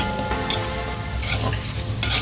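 Dried fish frying and being stirred in a pan, a steady close sizzle with scraping stir strokes throughout, no voices.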